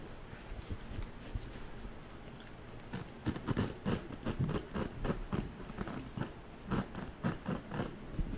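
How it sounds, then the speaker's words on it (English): A utility knife slicing through carpet fitted on stairs, right beside tiled flooring, making a run of close, scratchy tearing and snipping strokes, sparse at first and then denser and irregular, with no one speaking. "I can finish off the cut by pulling it up so it's not anywhere near those tiles"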